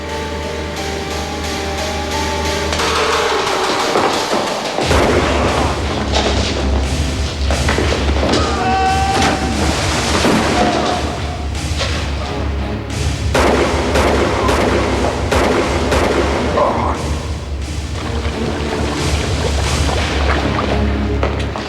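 Gunfire in a classic crime TV drama, loud sharp reports mixed with a dense dramatic music score and booming sound effects throughout, with no speech.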